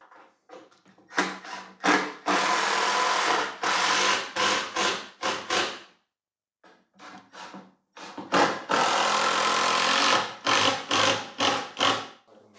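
Screws are driven into pre-drilled plywood for a large workbench frame, heard as bursts of a power driver in quick succession, with each screw whirring and biting in, a pause midway, then another run of bursts close by.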